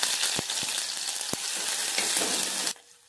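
Ground masala paste hisses loudly in hot oil after mustard seeds have popped, a dense steady sizzle with a few sharp pops before it drops away abruptly near the end.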